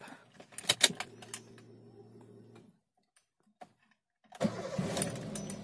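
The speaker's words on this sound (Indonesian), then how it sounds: "Oke, kita akan start up." A car engine is started: keys jangle and a starter cranks briefly, then a lull with a faint tick, then the engine catches and settles into a steady idle, close and moderately loud, with no talk.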